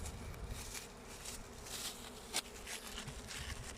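Honeybees buzzing at an opened beehive during winter hive maintenance, a constant close hum with a low rumble beneath, one brief sharp knock midway and faint handling sounds, no voices.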